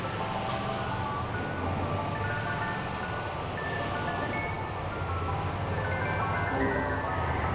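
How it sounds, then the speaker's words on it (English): Ice cream truck in the racing mode of the video game GTA 4: a tinkly, high melodic jingle plays over a constant loud engine roar and road noise, the chime notes fairly faint and intermittent under the rumble. "it sounds like it's got multiple jingles that you sort of scroll through on every press of the right stick"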